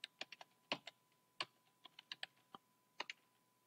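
Typing on a computer keyboard, a sparse run of crisp individual keystrokes in quick uneven bursts, close and quiet in an otherwise silent room.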